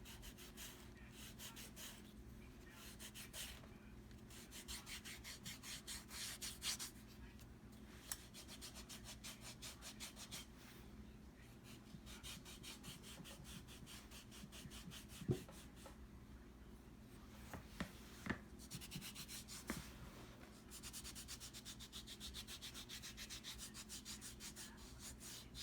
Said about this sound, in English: file for the bottom of your feet, and just do the bottom of the feet to get the dead skin off.